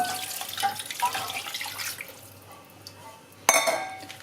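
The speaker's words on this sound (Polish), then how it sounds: "Wlepam pół litra wody." Water runs and splashes steadily into a pot for a couple of seconds, followed by a sharp metallic clunk as something is set down.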